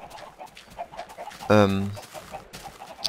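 A Minecraft chicken gives a short cluck from inside a glass coop, a brief harmonic burst partway through, heard beneath ongoing talk and game background noise.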